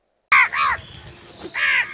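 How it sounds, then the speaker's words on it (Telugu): A crow caws loudly and close by in front of a house, three harsh calls, two in quick succession and then a third after a short pause. "ఇంటి ముందు కాకి అరిస్తే అతిథులు వస్తున్నారు"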